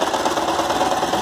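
A sewing machine stitches ribbon tape onto a curtain for a gathered sheer panel, giving a steady, close, continuous motor whir with a fast needle rhythm and no talking.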